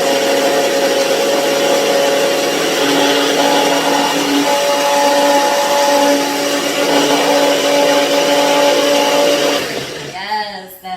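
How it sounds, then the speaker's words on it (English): Blender whirring as it blends a lemon zest dressing for a Lebanese couscous fattoush, loud and steady close by, cutting off near the end. "And now it's time to blend this lovely zest all together."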